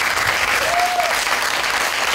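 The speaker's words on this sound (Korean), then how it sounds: "와, 박수 한번 주세요." Students in a university police administration class applaud after a stepping warm-up routine; a steady, full burst of clapping throughout the short span, with a brief whoop riding over it.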